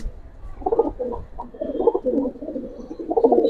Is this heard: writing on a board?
no